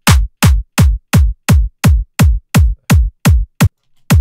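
Happy hardcore beat with an overly loud clap, fast driving four-on-the-floor hits where each bright, harsh clap-heavy punch dominates the thin low end, about eleven hits before stopping abruptly.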